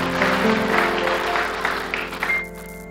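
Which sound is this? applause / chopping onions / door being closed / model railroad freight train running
applause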